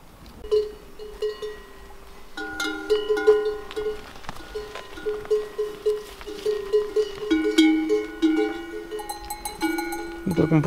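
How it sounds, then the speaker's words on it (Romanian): Many large bells on sheep clank and ring irregularly as a flock of about 700 moves about at a mountain sheepfold in Borșa, a dense, overlapping metallic jangling at moderate distance with faint bleats. "Cum puteți să auziți, clopotele pe oi sunt foarte mari."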